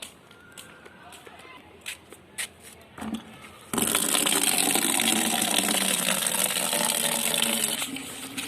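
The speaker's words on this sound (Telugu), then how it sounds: "బకెట్లో వాటర్ పట్టాలి" Water gushes into a bucket from a tap, a steady broadband rush that starts abruptly partway through and continues loudly to the end, with brief voices and clatter beforehand.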